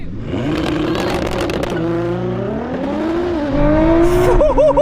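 A Ferrari SF90 and a 1000 hp Nissan GT-R launch side by side in a drag race, engines roaring loudly as revs climb and shift through rising, sweeping tones, close and powerful throughout.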